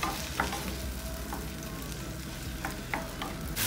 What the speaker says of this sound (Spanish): Y lo vamos como a sofreír un poquito.